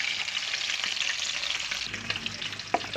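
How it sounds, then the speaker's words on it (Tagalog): Crispy fried chicken pieces sizzle steadily in hot oil, a loud continuous crackling hiss up close with a few sharper pops and spits toward the end, no voices. "Pangalawang salang na tayo, kids, ng ating crispy fried chicken."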